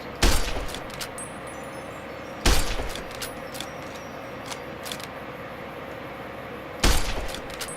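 Three sharp, loud gunshots from a firearm in the modded video game Fallout New Vegas, spaced irregularly over several seconds, each with a short decaying tail over a steady background hum.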